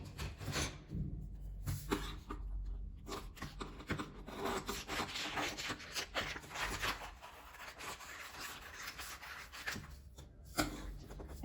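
Scissors cutting through patchwork fabric along a marked line, a soft close rasping and rubbing that continues for several seconds with brief pauses, alone without talk.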